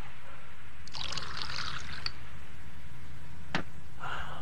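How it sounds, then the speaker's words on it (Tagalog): Water poured into a cup in a short hissing trickle of about a second, then a brief sharp clink and another small splash, close by with a quiet background. "Dadagdagan ko ng tubig ang sa iyo, ha?"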